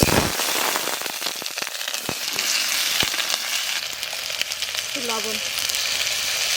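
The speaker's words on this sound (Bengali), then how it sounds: "এবার আলু কটা আমি ভেজে নিই।" Potatoes fry in hot oil in a large pot during village-style cooking, making a loud, continuous sizzling hiss with scattered sharp crackles and pops.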